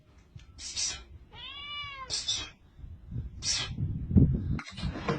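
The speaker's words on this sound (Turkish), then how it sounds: "Şu kediler bir gitmedi yemin ederim bela olacaklar ya." Several cats meow in short, bright calls, one with a long wavering yowl, over a rumbling, noisy outdoor background; no talking.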